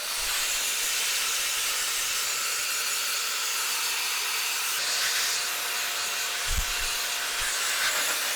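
An air duster blows compressed air inside a smoke- and soda-damaged Nintendo Wii console, making a steady loud hiss that runs throughout, with a couple of faint low knocks.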